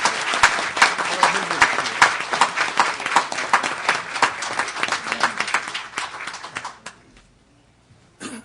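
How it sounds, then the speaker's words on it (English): A crowd claps steadily in loud, dense applause for about seven seconds, then it fades to near silence. "Let's give him a round of applause."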